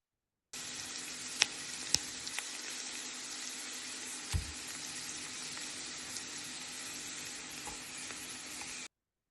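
Garlic and ginger frying in a pan, a steady close sizzle running throughout with a few small clinks and a brief low knock partway through, no talking.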